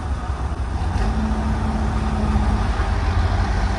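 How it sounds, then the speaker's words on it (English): A 666 tractor engine idles steadily just after being started, a continuous low rumble with a faint tonal hum, heard close and alone without talk. "Got the 666 over there fired up."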